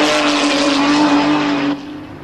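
A Nissan Skyline driving past with a loud, steady engine roar for most of the time, then dropping off abruptly as it recedes.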